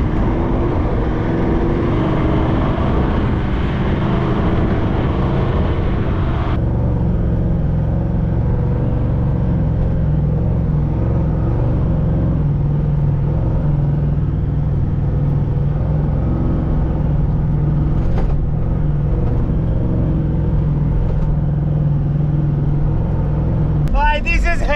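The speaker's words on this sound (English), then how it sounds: "Toyota Hilux, the clutch is blown up, this car, this cruiser, this bloody trooper that we're in right now is pulling this thing" A Toyota Land Cruiser Troop Carrier's engine drones loud and steady while towing a Hilux with a blown clutch through the bush, a constant close rumble with a shift in tone partway, under ongoing talk.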